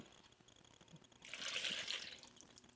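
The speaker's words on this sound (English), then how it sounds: "Throw your lemon juice in." Lemon juice pours from about the midpoint onto raw shrimp in a bowl for shrimp ceviche, a brief splashing trickle that swells and then tapers off, heard close and alone over a quiet room.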